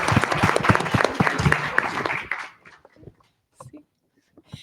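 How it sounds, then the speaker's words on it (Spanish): Audience applause closing a panel conversation at an international urban resilience forum, a dense, loud burst of many hands clapping that fades out after about two seconds, followed by a few faint scattered sounds. "Un aplauso, por favor, para esta conversación."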